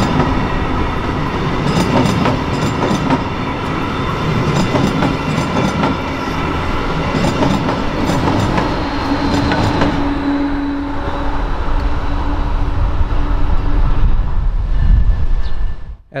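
A Brightline passenger train rumbles steadily across a bridge in South Florida, wheels clacking loudly and close throughout, with a long blast of the K5LA horn sounding over the roar near the middle before the noise cuts off.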